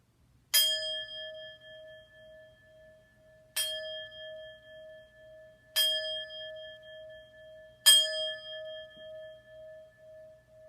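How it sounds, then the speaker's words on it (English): A single bell is struck four times at slow, even intervals at the start of a yoga class, each clear ringing tone fading gradually before the next strike. "We're going to start class with awakening the bell."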